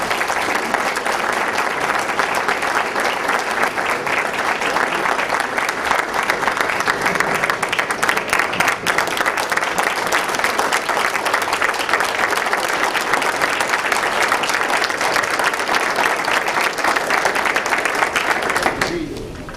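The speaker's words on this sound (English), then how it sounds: "if we can just applaud for that." Sustained audience applause at a full commission meeting, a dense, steady wash of many hands clapping that holds evenly loud for about twenty seconds before easing off at the very end.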